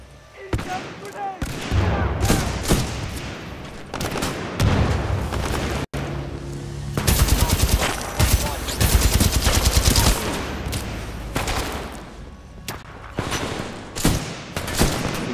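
Rapid automatic gunfire rattles in repeated bursts during Titanfall 2 combat, loud and close, with short pauses and a few heavier booms, while a voice talks intermittently.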